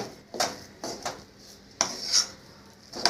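Powdered sugar is stirred by hand into warm semolina for a quick sweet. A few soft scraping strokes of a spoon against the dish sound close but quiet, with gaps between them.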